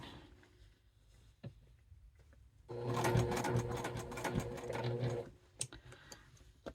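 A sewing machine back stitching through a handmade paper greeting card runs in one steady, rapid mechanical burst of about two and a half seconds, with quiet handling noises before and after.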